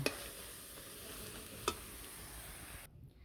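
Fish fries in a pan as its water cooks off, a steady soft sizzle with a single sharp clink partway through, before the sound cuts off near the end.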